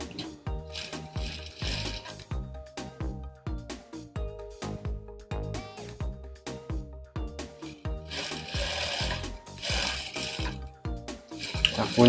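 A sewing machine stitches a Japanese-style zipper in short, fast runs of rhythmic mechanical clatter that stop and restart, close and steady, with quiet handling noises between bursts.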